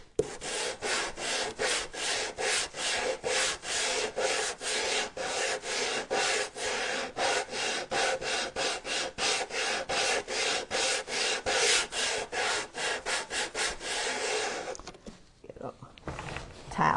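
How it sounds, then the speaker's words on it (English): Wood is sanded along the edge of a wooden frame by hand in rapid, even back-and-forth strokes, close and fairly quiet, continuing for about fifteen seconds before stopping with some light handling noise. "sand back the edge of my frame a little bit."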